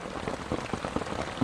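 Heavy rain pelts down in a jungle, a dense close patter of drops hitting surfaces, steady and loud for the whole brief moment.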